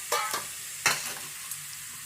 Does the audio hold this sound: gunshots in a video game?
no